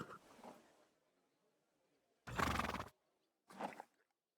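A horse in Kingdom Come: Deliverance II neighs loudly and close in one long whinny, followed after a brief pause by a shorter second call, with quiet gaps and a faint sound at the start.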